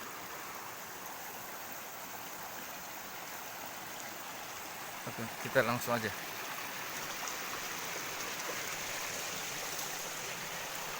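Rushing river flowing over large boulders, a steady broadband wash of water running throughout, with someone speaking briefly over it partway through.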